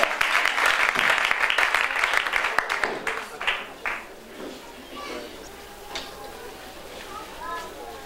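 Audience applause for donors at a church gathering in a Kinyarwanda and Swahili service, loud and dense for about three seconds, then thinning into scattered claps and faint crowd noise.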